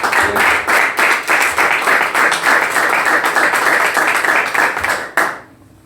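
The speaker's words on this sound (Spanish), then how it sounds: "démosle una fuerte ofrenda de palmas al Señor" A church congregation clapping for the Lord, a sustained loud, dense burst of rhythmic applause that fills the room and then cuts off abruptly near the end.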